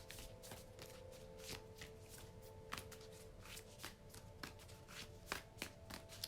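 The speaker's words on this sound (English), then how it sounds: "one more shuffle" Cards are shuffled in quick, repeated riffles and taps, close and quiet, with no voices.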